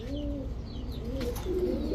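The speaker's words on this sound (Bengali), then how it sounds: "এখন একটা দেখাবো বাবরা কবুতর দেখেন লাল বাবরা কবুতর" Red Babra pigeons, a male and a female, coo in low rolling phrases close by, the soft throaty calls repeating steadily against a constant background hum.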